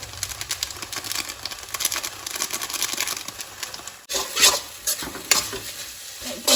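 Masala sizzling in hot oil in a pan while making Maggi noodles, a steady close crackle with a spoon scraping and stirring through it, briefly dropping away before the frying resumes louder.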